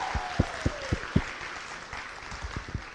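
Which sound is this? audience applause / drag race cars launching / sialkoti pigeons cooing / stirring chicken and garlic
audience applause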